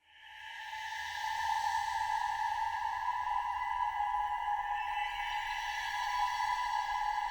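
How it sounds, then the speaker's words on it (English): Omnisphere's Angels in the Desert preset gives a sustained atmospheric synth texture, a steady airy drone with bright held tones that swells in and then holds evenly throughout, nothing else playing. "I use the Angels in the Desert preset."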